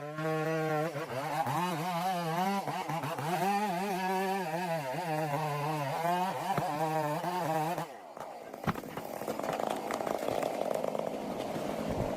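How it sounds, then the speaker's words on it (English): A chainsaw cuts through trees, its loud whining engine wavering in pitch as it bites into wood for several seconds, then abruptly drops off into a rougher, lower mechanical roar with clattering. "Even the strongest tree must surrender to the cold, relentless bite of the saw, masterfully wielded by human hands."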